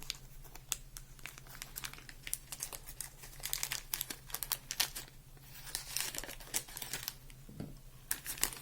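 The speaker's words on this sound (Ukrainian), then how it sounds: "Давайте її зараз відкриємо і подивимося, що там може бути всередині." A small, light AliExpress parcel is torn open by hand, giving a close, quiet run of crinkling plastic and rustling packaging in irregular bursts, without speech.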